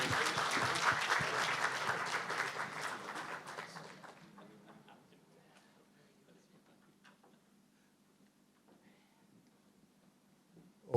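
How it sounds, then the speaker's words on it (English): A conference audience on digital trade and finance in Hong Kong claps for panelists, with the applause strongest at the start and thinning out by about four seconds, leaving a quiet room with faint scattered sounds. "Let's give them a round of applause."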